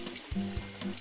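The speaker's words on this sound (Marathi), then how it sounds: "तेल आपलं तापलेलं आहे. त्यामध्ये आपण आता वड्या सोडूया." Colocasia leaf rolls (alu vadi) slices dropped into hot oil, giving short bursts of frying sizzle and a couple of soft plops, quiet and close with no talk.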